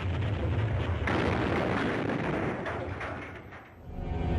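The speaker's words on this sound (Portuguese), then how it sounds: "O canhonaço durou 12 horas." Cannon bombardment of the Al-Azhar mosque and its surroundings in the Napoleonic era: a dense, continuous roar of heavy booming fire with rumbling low end, briefly easing near the end before swelling again.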